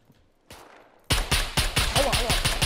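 Gunfire in the survival shooter SCUM: a lone shot, then a rapid string of loud, evenly spaced bursts close by, with no voices over it.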